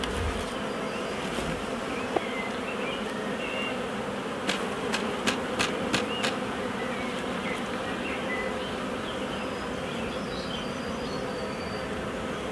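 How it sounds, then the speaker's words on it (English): Honeybees hum steadily around an open hive during queen rearing in the UK, a continuous close drone with a few faint knocks and clicks of equipment and no talk. "Only these bees are not quite so defensive as they were."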